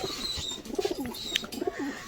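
Pigeons in a loft coo softly in low, rolling bursts, several birds close by with overlapping calls and faint rustling, no voices.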